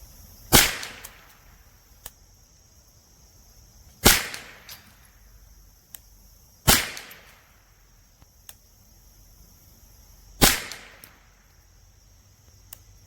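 A Bear Creek BC201 .22 LR rifle fires CCI Standard ammunition outdoors in the woods: four sharp, separate cracks a few seconds apart, each with a short fading echo, and no talk.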